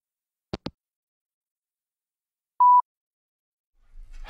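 A single short electronic voicemail beep sounds alone and clear, after two faint clicks and before a low rumble of handling begins.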